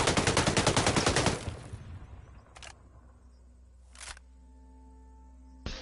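Rapid burst of video game gunfire, a dense rifle volley lasting over a second, followed by a few sharp isolated shots and a low rumbling hum, in a PlayStation 5 tactical shooter match.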